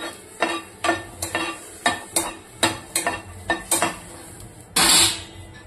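Green chillies dry-roasting in a pan with no oil, a dozen sharp, regular scraping and clattering strokes of a spatula against the pan over a faint sizzle, ending in a louder burst.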